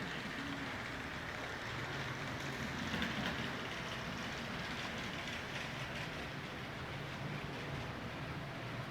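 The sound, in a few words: model train running on track at museum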